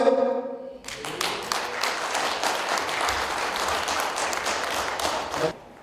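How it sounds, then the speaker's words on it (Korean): Audience at a lecture by Cho Seung-hwan at Yeosu Gwangyang Port Authority breaks into sustained, dense applause after a brief tonal opening, holding steady and loud for several seconds before cutting off abruptly. "서슴없이 박수를 많이 쳐주시기 바랍니다"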